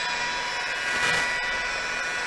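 Steady whirring drone of a variable-speed polisher at mid speed on a car windshield, constant and fairly quiet, swelling slightly midway.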